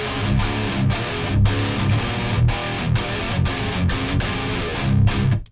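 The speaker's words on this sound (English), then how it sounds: "This is how it sounds without the overdrive." An electric guitar plays a dense, chugging rhythmic riff through a regular distortion pedal with no overdrive boost in front. The tone is loud and muddy, with repeated palm-muted strums and brief gaps between phrases.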